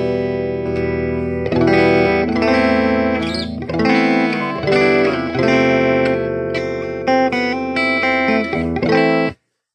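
Electric guitar played through a Marshall Valvestate 100 amplifier on its clean channel, chords and single notes ringing close and loud with some effects shimmer, playing steadily for about nine seconds before stopping abruptly.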